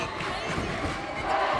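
A crowd of fans in a high school boys' basketball gym, Petaluma Trojans against Piner Prospectors, roars and cheers with clapping mixed in: a dense, continuous wash of voices heard from within the stands.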